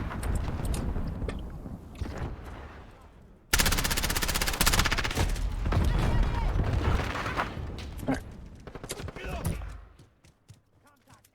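MP7 submachine gun in Call of Duty: Modern Warfare (2019), rapid bursts of automatic fire rattling loud and dense across most of the span with short gaps, game noise around it and a voice faintly present.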